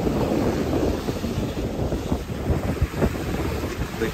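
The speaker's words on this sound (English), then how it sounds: "a little bit windy in the night time." Strong night wind in Antalya city centre buffets the microphone in continuous gusty rumbles, with a constant roar of open air throughout.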